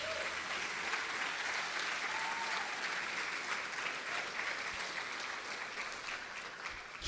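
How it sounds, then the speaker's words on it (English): An audience at an awards ceremony gives sustained, even applause, many hands clapping at moderate distance in a dense wash that tapers slightly toward the end, with no speech over it. "Please give her a warm round of applause."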